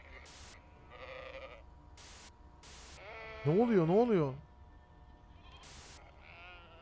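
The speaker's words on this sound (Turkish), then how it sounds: "Koyun haykırıyor." A cartoon sheep bleats loudly in the horror game Amanda the Adventurer, one long wavering bleat mid-clip, amid short game noises and a player speaking briefly.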